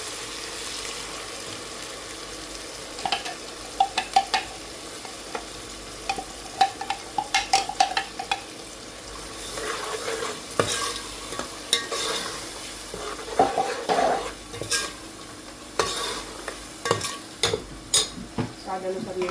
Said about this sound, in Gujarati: હવે મસાલો નાખી દેવાનો છે, ફેરવી લઈએ।